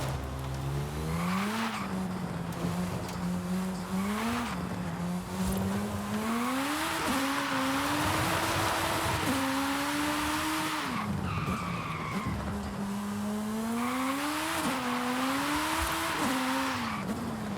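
A tiny car in the racing game Forza Horizon 5 drives with a high, rising and falling engine whine, broken by long tire skids and squeals that repeat several times, loud and continuous.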